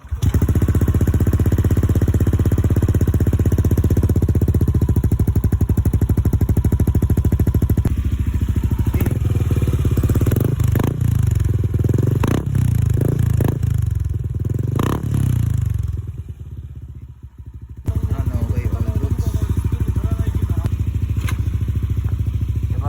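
A Yamaha NMAX V3 scooter with a JVT V3 aftermarket exhaust pipe idles and revs in a loud, continuous rumble, dropping out briefly near the end before settling back to a steady idle.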